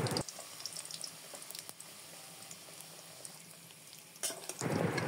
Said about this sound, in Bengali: রেখে দেওয়া আলুগুলোকে দিয়ে এবার খুব ভালো মতো সব একসাথে ভেজে নেব